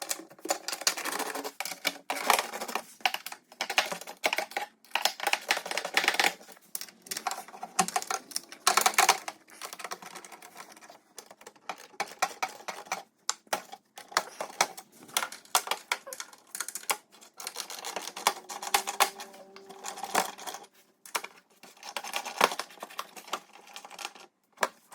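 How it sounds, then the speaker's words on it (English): An 8mm socket ratchet loosens the oil pan cover bolts on a Mercedes E350, giving rapid close clicking in uneven bursts with short pauses and no voices. "So we got our 8mm socket, and we'll start loosening the bolts so we can get to the bottom of the oil pan."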